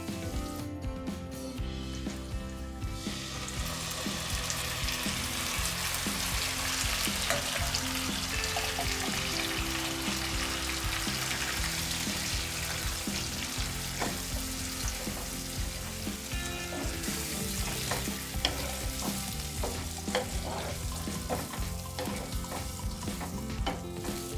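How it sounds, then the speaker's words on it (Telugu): Steady, loud sizzling of chicken frying with curry leaves in a pan as its water cooks off, with occasional stirring clatter, continuous throughout without any talking. "ఈ వాటర్ అంతా ఇనికిపోయేంత వరకు ఫ్రై చేసుకోవాలండి"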